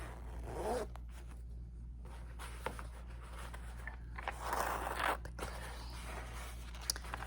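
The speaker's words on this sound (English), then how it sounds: "Let me actually zip this up." A zipper on a leopard print bag is pulled shut in a few close, quiet strokes, with faint handling rustles around it in a hushed setting.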